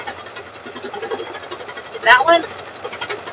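An embroidery machine stitching, a steady fast mechanical whir and rattle under a woman's brief speech, with a sharper clattering burst partway through.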